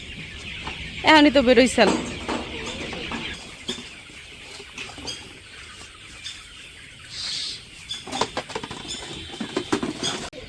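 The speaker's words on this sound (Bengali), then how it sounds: "এখন খাবার দিতেছে ভিতরে" Village chickens clucking and pattering about as they are given food and water inside a new coop, short busy clucks and scratching with a person speaking briefly nearby.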